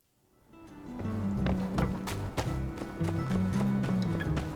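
Horses at a stable in the video game My Time at Sandrock, with rhythmic hoof clip-clops building up and trotting steadily at moderate loudness.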